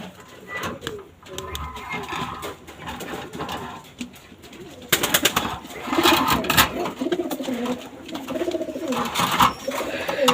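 Pakistani teddy pigeons, one pair sitting on eggs, coo in low rolling phrases with some rustling and bursts of louder activity midway, close and moderately loud, with faint voices mixed in.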